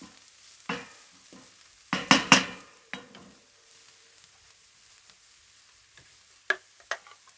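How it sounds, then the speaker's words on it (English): Garlic frying in a pan on a kamado grill: faint sizzling punctuated by clusters of loud utensil knocks and scrapes, with quieter gaps between the bursts. "we don't want to burn the garlic that we've added. So let's let that fry off"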